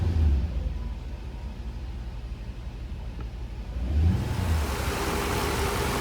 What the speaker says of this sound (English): I'm just gonna let it idle here for about 10 minutes.